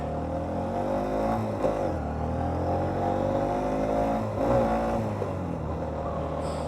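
A motorcycle engine on a ridden bike hums steadily up close, and its pitch dips and rises again as the rider in off-road boots shifts gears twice.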